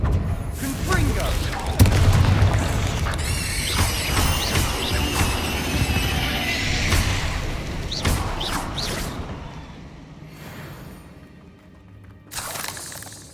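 Confringo spell blasts in the Xbox Series X game Hogwarts Legacy burst and crash over a dense stretch of combat noise, with shattering hits and explosions, while voices speak throughout.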